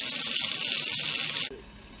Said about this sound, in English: Now this is going to be a very luxurious shower.